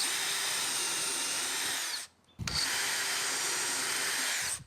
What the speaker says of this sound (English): use this 1/2" bit then to make a counter bore in order to recess the head of those pan head screws